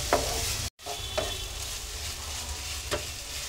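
Apple pieces frying and being stirred in a pan for halwa, a soft continuous sizzle broken by a few sharp scrapes of the spoon against the pan.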